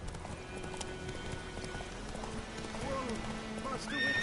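Roach, the horse in The Witcher game, gallops with rapid hoof clip-clops and whinnies. Voices speak over the hoofbeats, and there is a faint patter of rain.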